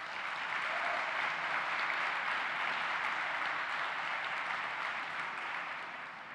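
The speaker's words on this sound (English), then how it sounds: "A round of applause, please, for all" An audience at an awards event for young South Africans gives sustained, even applause, a dense wash of clapping that stays steady before easing slightly at the end, heard from a distance with no talk over it.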